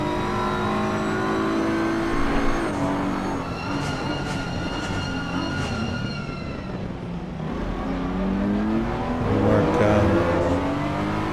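Race cars, a BMW and an Audi, accelerating on track at Circuit of the Americas, engines droning loud and steady throughout with rising and falling pitch as they pass, no voices.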